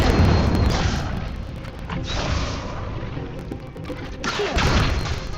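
The Incendio fire spell being cast in the video game Hogwarts Legacy, a loud whooshing, rumbling burst that swells and fades across several seconds, with a few mechanical creaks and thuds around it.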